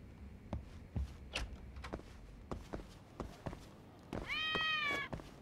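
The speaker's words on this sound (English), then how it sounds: "Ah! Kitty." A cat in the video game Lost Judgment gives one clear rising meow near the end, after a run of soft footsteps and taps.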